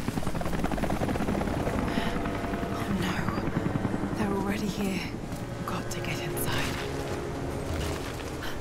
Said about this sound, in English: can you hear that helicopter again?